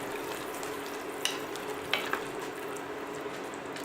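Food in a watery mixture is stirred in a pan, with a soft continuous simmering hiss and a few small clinks and scrapes of the utensil up close.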